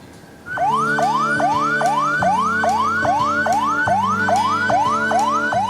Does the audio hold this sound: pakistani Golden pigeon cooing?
no